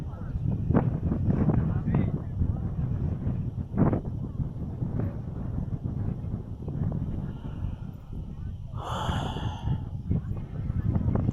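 Strong wind on the Ngong Ping grassland buffets the microphone with a continuous low rumble and gusty roar. A person breathes and speaks faintly underneath.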